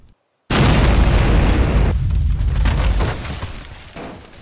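After a brief silence, a bomb mod explosion in Teardown erupts with a loud, sudden boom, then rumbles and crackles for a few seconds as debris settles and the sound fades.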